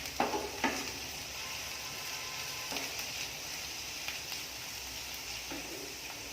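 Chicken roll filling sizzles quietly in a pan as a spoon stirs it, soft steady frying hiss broken by a few scraping clicks, with no talking.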